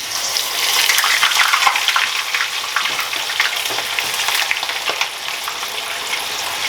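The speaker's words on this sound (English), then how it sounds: "Absolutely gonna just use the spoon to drop them in." Potato chips frying in hot oil after being spooned in, giving a steady, dense crackling sizzle that stays loud and broadband throughout with brief bubbling bursts.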